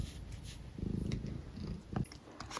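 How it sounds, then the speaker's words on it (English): A small female pet cat purring softly up close, a low, steady rumble that swells in a couple of louder bursts over a few seconds. "It's a delicate little purr"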